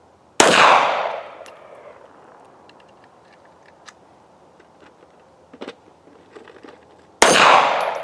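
A S&W M&P Shield .380 EZ pistol fires two sharp, loud shots several seconds apart, each trailing off in a ringing outdoor echo, with faint ticks and small noises in between.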